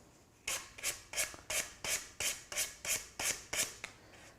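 A wooden box edge is rubbed with an abrasive to break the sharp corner, about ten quick, even strokes in a steady rhythm, close and fairly quiet with no talk.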